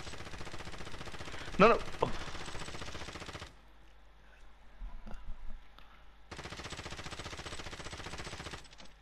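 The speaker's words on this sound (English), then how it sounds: "I'm gonna shoot this guy." Rapid automatic gunfire in a video game shooter, dense loud bursts of rattling shots that stop abruptly, pause, and resume, with a short shouted voice over them.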